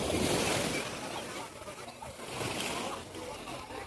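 Waves wash onto a clean sandy beach in two soft surges, with broadband hiss swelling and fading under faint background voices.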